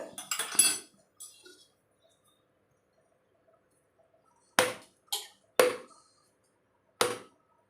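Tender coconut is cut with a blade, giving a few sharp, hard knocks spaced out by quiet pauses, with a cluster of clattering sounds at the start.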